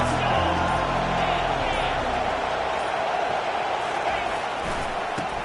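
Loud, dense crowd roar fills the whole stretch, a constant stadium din with no clear breaks, from a Madden football video game on PS5.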